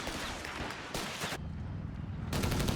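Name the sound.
machine gun fire in video game Company of Heroes 3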